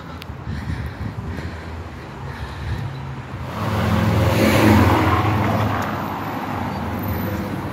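On a quiet town street, a car passes close by, its engine noise swelling to a peak and fading again over a low steady rumble of traffic, with no talking.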